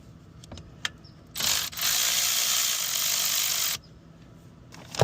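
A ratchet loosens a 10 mm bolt on a bracket during a 12-volt battery replacement on a 2021 Tesla Model 3, giving a few clicks and then a loud, close, continuous ratcheting buzz lasting about two seconds.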